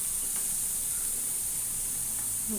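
Milk poured into a pan of fried onions and coriander sizzles and hisses steadily and loudly, a close, continuous bubbling spray with no voices.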